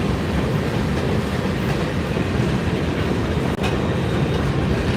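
A long Norfolk Southern freight train in Delaware & Hudson heritage paint, number 1080, rolls steadily past close by, its cars rumbling with a continuous clickety-clack of wheels on rail.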